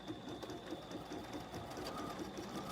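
BERNINA sewing machine stitching at a quick, even pace, a faint continuous mechanical whir with rapid regular needle ticks, heard alone.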